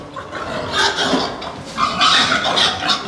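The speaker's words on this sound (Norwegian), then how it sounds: "Du hører grisen hyler nå" Pigs from different pens squeal and grunt in a farm barn during transport for slaughter, shrill overlapping cries rising and falling in loud bursts at close range.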